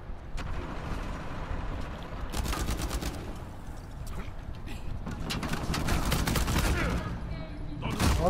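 Bursts of automatic gunfire in an Uncharted 4 multiplayer match, clustered volleys in the middle and near the end under a steady game background, with players talking lightly.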